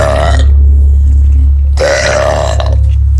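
A girl lets out two huge, loud burps close to the mic, one long drawn-out belch and then a second after a short pause.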